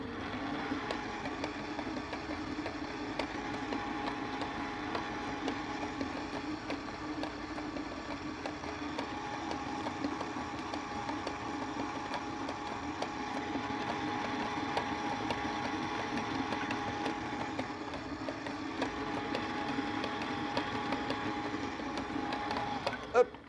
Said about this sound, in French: Mes ingrédients sont bien incorporés. On peut arrêter le batteur.